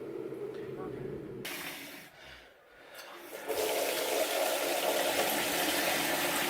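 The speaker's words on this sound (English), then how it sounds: "That's me just adding the water there." Cold water poured into a vessel of dark ale wort during home brewing, a steady broadband rush that starts partway through, dips briefly, then runs loud and continuous to the end.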